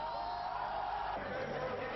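A large crowd massed on Prague's Old Town square, a steady far-off roar of many voices with faint cheers and shouts, continuous and even throughout.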